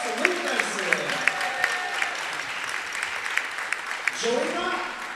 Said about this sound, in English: One more round of applause for Luke Dyson